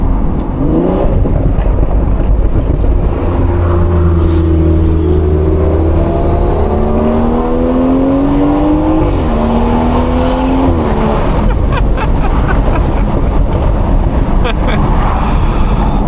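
A BMW 440i (330 hp, 500 Nm) accelerates in a full pull from a traffic light, its engine note climbing steadily through the gears with brief dips at each upshift, loud and close inside the cabin.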